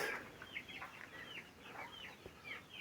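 Newly hatched chicks in a hot poultry house peep in a rapid, repeated chorus of thin, high chirps, faint and continuous without talk.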